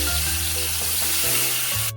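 A rohu fish head sizzles and spatters in hot mustard oil with a steady, close frying hiss that runs continuously and then stops abruptly.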